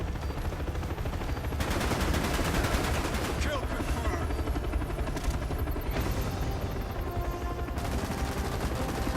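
A Cobra attack helicopter in a video game roars continuously beneath dense, rapid machine-gun fire. The loud barrage rattles without pause and shifts in intensity.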